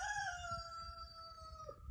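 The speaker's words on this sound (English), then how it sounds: "Oh no, my chickens are escaping." A chicken crows clearly and close over a low rustling background as the birds get out of their pen, a single sustained call lasting under two seconds.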